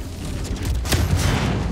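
A torpedo shot down and exploding right in front of the ship in Star Citizen: a sharp, loud blast with a brief rumbling tail amid continuous low ambient noise.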